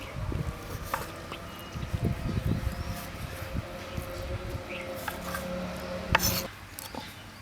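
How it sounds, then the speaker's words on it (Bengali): Raw chicken being cut into small pieces with a knife for homemade chicken shawarma, giving soft irregular rubbing and chopping sounds close by, with a few sharper knocks against the board. "ছোট ছোট টুকরো করে কেটে নিচ্ছি প্রথমে"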